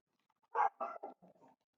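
A dog barks indoors in a short burst of four or five sharp, close barks that trail into softer yips, with no talk over them.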